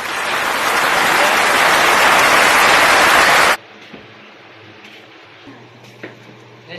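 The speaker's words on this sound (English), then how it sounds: "A round of applause" Loud audience applause greets a guest at a school event, a dense burst of clapping that fills the first half and then cuts off abruptly, leaving quiet room tone with a few faint knocks.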